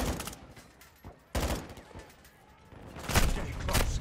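Gunfire in the Call of Duty Modern Warfare II campaign: several sharp bursts and single shots, fairly close and loud, with a longer rattling volley near the end, under occasional game chatter.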